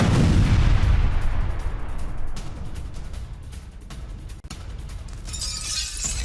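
Artillery strike on a howitzer in Donetsk during the Russia-Ukraine war: a heavy, booming blast that rolls into a long rumbling roar and crackling debris, loud and sustained, with a sharper crackle near the end.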